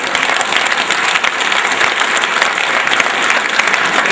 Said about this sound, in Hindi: ताली बजानी है तो सारे बजा लो